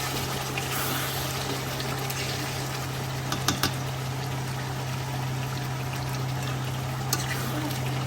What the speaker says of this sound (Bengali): কষিয়ে নেওয়ার পর পরিমাণ মতো গরম জল দিয়ে